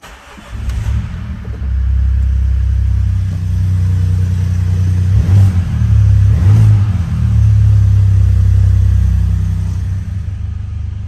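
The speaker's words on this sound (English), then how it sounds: "First thing to do, cold start." A MINI engine with a new exhaust starts cold and settles into a deep, loud idle, with a couple of throaty revs rumbling through the exhaust midway.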